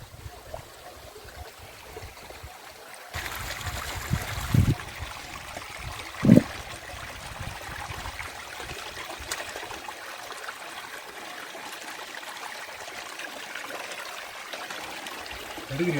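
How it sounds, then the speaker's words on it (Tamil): A small waterfall stream in the Yercaud hills pours steadily, giving a continuous broad rush of flowing water with a brief louder splash or two partway through. "நாங்கள் பார்க்க வந்தோம் பாருங்க ஃபால்ஸு,"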